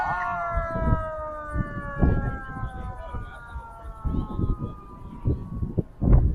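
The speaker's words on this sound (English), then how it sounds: "Frontline ambulance." An ambulance siren wails in a long descending tone as it passes in a Mule Day parade in Tennessee, while people chat nearby over the sound.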